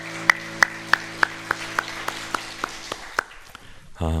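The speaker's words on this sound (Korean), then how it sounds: "우리 주님께 영광의 박수 올려드리겠습니다" Clapping in unison from a congregation at a Friday evening church service, about a dozen evenly spaced claps that gradually soften, over a steady sustained keyboard tone, with a new note entering at the end.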